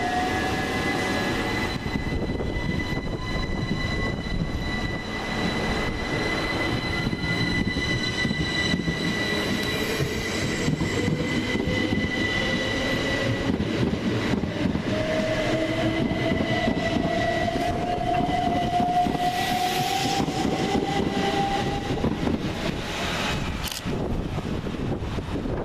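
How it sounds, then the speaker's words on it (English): Two coupled Southern Railway Class 377 electric units, running a delayed London Victoria to Littlehampton service, pull out of Hassocks station: a continuous loud traction whine rising in pitch with rolling wheel noise and rail squeal, close by, with no talk. "Departing now is 377435 and 377147, working the slightly delayed 1212 Southern Railway service from London Victoria to Littlehampton"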